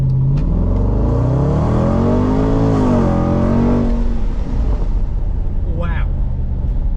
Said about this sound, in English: Range Rover SVR launch